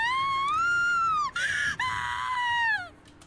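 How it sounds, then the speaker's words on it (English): A high-pitched scream from a character in the horror video game Corpse Party: Book of Shadows rises and breaks into two sharp, loud bursts, then cuts off into quiet. "a scream forcing its way out from inside my body from the very pit of my stomach"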